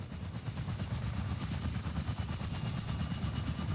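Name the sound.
helicopter in the video game Fortnite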